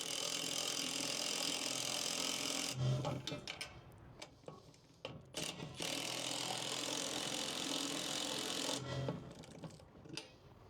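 A ratchet tightens the roof rack feet on a Ram ProMaster van, with close rapid clicking strokes in bursts between stretches of broadband rushing noise.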